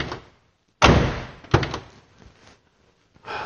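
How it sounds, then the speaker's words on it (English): Doors on a 1969 Oldsmobile 442 Convertible slammed shut twice in close succession, each a loud solid thunk with a short rattly decay, followed by a softer third clunk after a pause. "Convertibles tend to not sound so solid when you open and close the doors over time."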